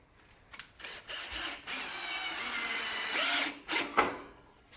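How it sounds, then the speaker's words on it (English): Power drill driving a screw into a frame, several short bursts of whirring that stop and start, close and fairly quiet, with a longer steady run in the middle. "Put the drill back in so that I can get my next one"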